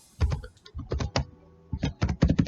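Computer keyboard typing in bursts of quick, close keystrokes, clattering in several clusters with short pauses between them.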